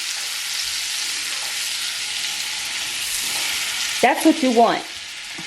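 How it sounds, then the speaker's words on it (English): Butter melts in a hot pan with a continuous bright hiss and crackle, holding steady and close, while someone speaks briefly near the end. "So I got my butter here. I'm gonna allow this to melt."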